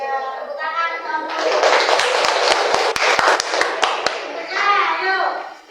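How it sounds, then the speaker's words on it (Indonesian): Students in a classroom clap hands in a quick run of about a dozen sharp, distinct claps, with a teacher's voice speaking before and after them. "Tepuk tangan kamu."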